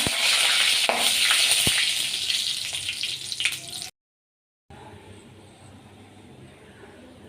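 Mustard seeds and dried red chillies fry in hot oil for paruppu rasam, giving a loud, steady crackling hiss with small pops. A brief silence follows, then a quieter, softer sizzle.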